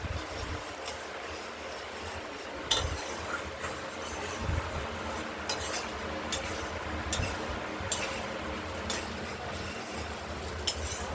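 Pabda fish and potatoes sizzle in hot oil in a pan, with a steady frying hiss and recurring clinks and scrapes of a spatula stirring against the metal, close and without speech.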